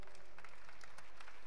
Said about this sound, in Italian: un grande applauso anche per Fabio